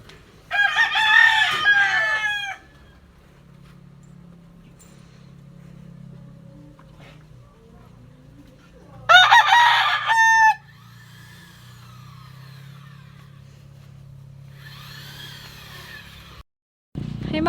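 Rooster crowing loudly among chickens on a hot day at a rural home, two clear cock-a-doodle-doo calls several seconds apart with a fainter distant crow between them over low background hum.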